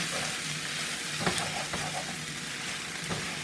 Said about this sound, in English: I'm adding this soy sauce to the outside rim of the pan